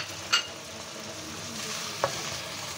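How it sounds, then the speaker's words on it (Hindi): Fresh ginger garlic paste frying with onions in a pan for a mixed vegetable dish, a soft steady sizzle with two sharp stirring clinks, faint and close. "अब मैं इसके अंदर अदरक लहसुन का पेस्ट ऐड करूँगी।"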